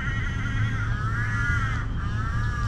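Several crows caw in Lumpini Park, Bangkok, in harsh, overlapping calls that carry clearly over steady low park background noise.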